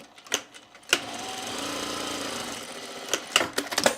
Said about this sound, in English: sew it together here.